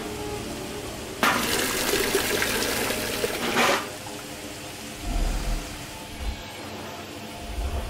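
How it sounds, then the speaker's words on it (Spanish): In a video game, water pours into a bucket as it fills, a dense rushing splash lasting about two and a half seconds before cutting off, followed by quieter low thumps and ambient sounds. "A ver, ¿puedo llenar el cubo de agua?"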